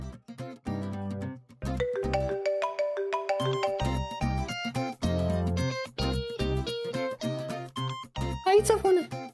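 A phone ringtone signals an incoming call in a domestic TV drama, with a bright melodic tune of repeated notes playing loudly and continuously, ending in a short flourish.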